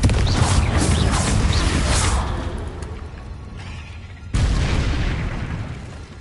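A Confringo blasting spell explodes in the video game Hogwarts Legacy, a loud booming burst with rumbling low end that decays, followed by a second sharp blast near the end.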